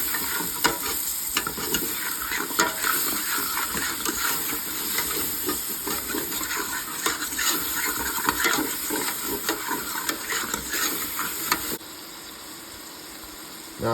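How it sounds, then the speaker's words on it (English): A spoon scraping the browned fond off the bottom of a beef and barley stew pot, a continuous close sizzle and hiss with rhythmic scratching strokes, easing off briefly near the end. "This is going to get all the fond off the bottom of the pot. I'm going to just scrape it up."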